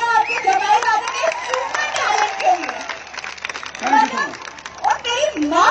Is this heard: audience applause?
yes